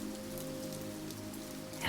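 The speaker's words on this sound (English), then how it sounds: "You can hear the water of the canal lapping softly against the stone wharf below, and the gentle continuous strumming of rain" Gentle, continuous rain patters steadily outside an open casement window above a canal, a soft even hiss with no voices, swelling slightly louder in the final moment.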